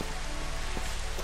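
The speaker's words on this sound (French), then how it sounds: "La pluie rend très bien" Steady, dense rain falls in Final Fantasy XV, a loud, even hiss of water pattering onto the ground with no voices over it.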